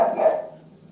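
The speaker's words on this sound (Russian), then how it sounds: "Услышал, на улице собаки орут." A single dog bark from dogs outside in the street, loud and close, followed by a short reverberant decay into quiet.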